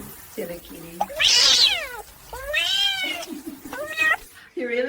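A kitten meows repeatedly indoors, several rising and falling cries of varying length, fairly close and loud, with soft voices in the background.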